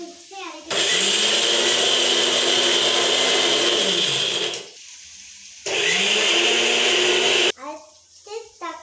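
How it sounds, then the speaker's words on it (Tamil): A mixer grinder grinding coconut roars loudly for several seconds, stops briefly, then whirs again in a second long burst, with a few quiet moments between runs. "இப்போ வந்து நம்ம மிக்ஸி அரைக்கிறோம்."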